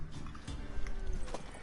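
A mare in The Witcher 3 video game, with hooves clip-clopping steadily and dense low rumbling and whoosh noise throughout a short busy stretch.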